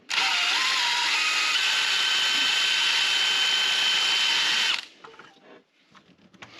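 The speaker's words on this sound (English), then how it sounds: "with a wire brush on, it's going to allow me to get in here and hopefully, fingers crossed, twist the drill" Power drill with a wire brush attachment, used on a Vauxhall Opel Vectra during a timing belt change, whirs loudly and steadily for several seconds, then stops and spins down, leaving faint clicks and handling noises.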